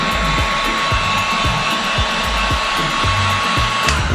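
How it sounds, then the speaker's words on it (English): A heat gun blows hot air onto a heavy-duty 5/16 fuel hose being fitted to a valve, a loud, steady whooshing roar with a faint rhythmic ticking underneath and no talking. "So I'm going to use a heat gun."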